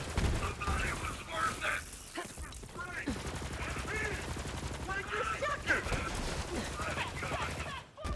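The Tsunami SMG in Borderlands 3 fires in rapid repeated bursts, a dense rattle of shots with impact noises over continuous game background, while someone talks throughout.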